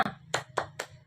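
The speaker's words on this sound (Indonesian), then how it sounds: "agar lebih semangat, kita tepuk semangat ya" A primary school class doing a rhythmic spirit clap led by the teacher, four sharp, evenly spaced claps in quick succession in a quiet classroom.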